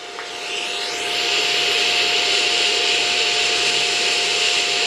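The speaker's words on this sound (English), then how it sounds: "And that's TIG welding with this." A BESTARC ARC200 9th-gen stick and TIG welder doing TIG welding: a steady, loud, close hiss with a thin whine that swells after the first second and holds without a break.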